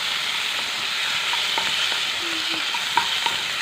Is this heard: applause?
no